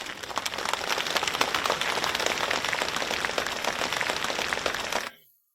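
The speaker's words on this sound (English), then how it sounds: "let us warmly welcome both of our guests with a round of applause" Warm audience applause welcomes two guests to a Buddhism and science discussion: thick, sustained clapping from a large crowd, loud and even for about five seconds before cutting off abruptly into silence.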